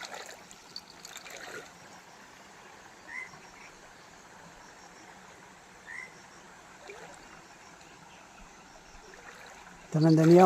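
A forest stream runs through dense Western Ghats jungle with a steady, even wash of flowing water, while frogs croak faintly at intervals. A louder sound cuts in right at the end.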